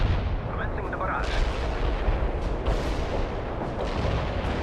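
Artillery barrage from the war strategy game World In Conflict, a dense, continuous rumble of heavy booming impacts that roll over one another for several seconds with no pause.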